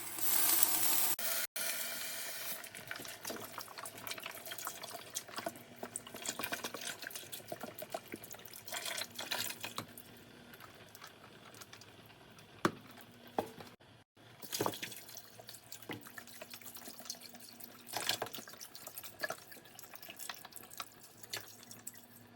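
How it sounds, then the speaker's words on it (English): Broth poured from boxes into a pot of collard greens on the stove, a steady close splashing and trickling stream with faint sizzle, tapering into drips and occasional clunks over about twenty seconds, no one talking. "Now we're adding in our broth."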